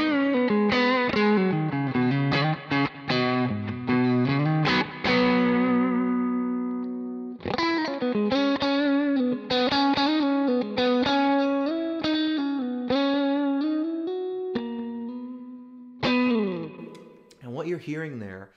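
Distorted electric guitar played through a Kemper profiler cab, recorded with a gold mic paired with a Fathead ribbon mic, trimming low end; loud sustained chords and riffs with brief pauses, alone and close.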